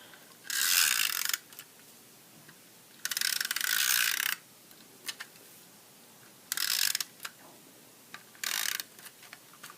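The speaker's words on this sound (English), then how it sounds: "And I'm going to use just snail adhesive for this." A snail adhesive tape runner dispenses glue onto a card in several bursts of dry ratcheting clicks, some longer and some brief, each close and clear against a quiet background.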